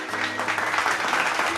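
At a school closing ceremony, a crowd gives the storytelling contest winners sustained, even applause, with a soft musical drone running beneath the clapping.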